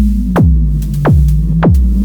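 Modular synthesizer oscillator under FM modulation, giving a low humming drone with a throbbing pulse that falls in pitch three times in a row. It is loud and close, with a steady rhythmic wobble.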